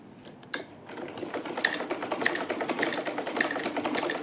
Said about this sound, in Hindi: अब मैं इस शर्ट को यहाँ से अंदर 2 बार फोल्ड करके मैं इसको स्टिच कर लूँगी।